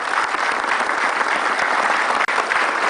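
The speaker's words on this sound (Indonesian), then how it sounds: "Tepuk tangan dulu dong." A studio audience applauds a guest on an Indonesian talk show, the clapping loud, dense and steady throughout, with no voices over it.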